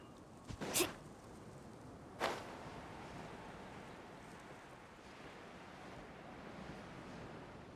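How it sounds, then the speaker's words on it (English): Waves and surf wash steadily while surfing in the video game Genshin Impact, a soft continuous roar with two brief sharp splashes near the start and no talk. "Carving waves!"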